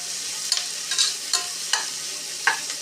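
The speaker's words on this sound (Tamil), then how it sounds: "இது நல்லா பொன்னிறமாக வதங்கட்டும்" Onions sautéing in ghee until golden for prawn biryani, a soft steady sizzle broken by about six sharp stirring scrapes at an even pace.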